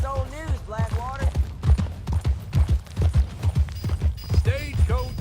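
Horse hooves clip-clop at a steady walking rhythm in Red Dead Redemption 2, close and clear, with voices talking over the hoofbeats.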